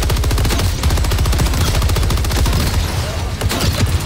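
Mortar and gunfire in a video game: loud, relentless automatic fire in fast, even bursts close by, with heavy low thuds beneath the rattling shots.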